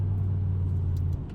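A BMW E60 M5 engine drones steadily while driving, a deep, even rumble heard from inside the car with no talking.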